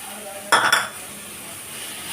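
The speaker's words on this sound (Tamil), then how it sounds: "போட்டுட்டு லேசாக கிளறி கொடுத்துக்குருவோம்" Mango rice tempering stirred in a pan, a single short clatter of a spoon against metal over faint background hiss.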